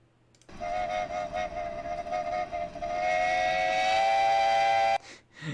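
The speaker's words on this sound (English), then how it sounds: "it also sounds like a perfectly cut scream with that whistle too" Flying Scotsman steam locomotive whistle blowing a long, loud, shrill blast that rises in intensity partway through, held for several seconds like a cut-off scream before stopping abruptly.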